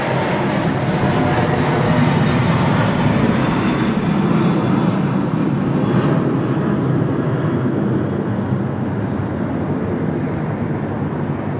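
Qantas Airbus A330 departing Sydney Airport, its engines a loud, continuous broadband roar that slowly fades and softens as the plane passes and climbs away.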